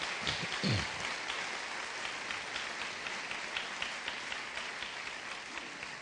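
A church congregation claps for Jesus in a steady, vigorous wash of applause that runs throughout, fairly faint and diffuse, with no talk over it.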